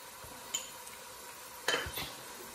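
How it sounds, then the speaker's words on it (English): Garam masala stirred into a pan, a faint low sizzle with two soft spoon scrapes against the metal, the second longer, quiet and close with no speech. "Give that a mix."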